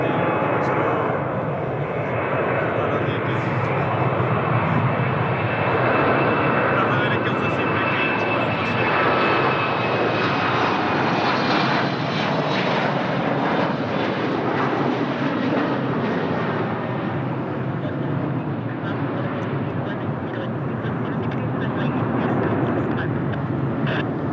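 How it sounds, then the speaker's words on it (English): An Embraer KC-390 military transport's engines at Lisbon Airport produce a sustained, loud, broad roar that holds steady throughout, with people talking intermittently nearby. "guys love even the Embraer KC390."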